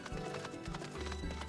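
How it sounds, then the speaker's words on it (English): Three Grand Company horses in Final Fantasy XIV travel along a road, their hooves producing a steady, overlapping clip-clop gallop at an even, quiet level. "the Grand Company horses travel along the road"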